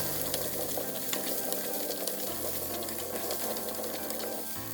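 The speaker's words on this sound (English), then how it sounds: "Put the potatoes stir-fry until the potato color becomes somewhat" Potatoes stir-fry in oil in a pan over medium-high heat, giving a dense, constant loud sizzle and crackle with no pauses, close up and without voices.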